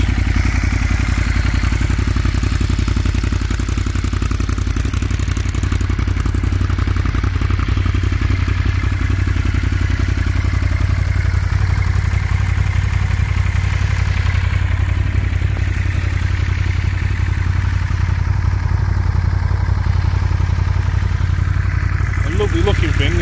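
A Ducati Monster 1200 S motorcycle with an aftermarket exhaust runs at a steady, loud idle close by for the whole stretch, with a brief clattering burst near the end.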